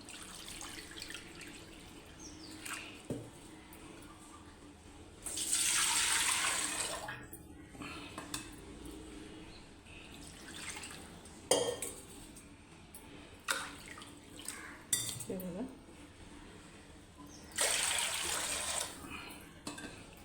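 Water pours in a couple of short bursts, splashing into a container, with quieter clinks and handling noises between pours.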